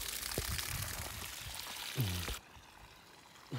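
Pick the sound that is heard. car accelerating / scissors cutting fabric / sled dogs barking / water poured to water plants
water poured to water plants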